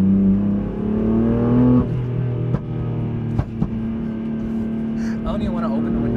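A 600-horsepower BMW M4 running on E85 with a loud exhaust drones steadily from inside the cabin while cruising, a low rumbling tone shifting pitch near two seconds, with a few brief knocks and people talking over it.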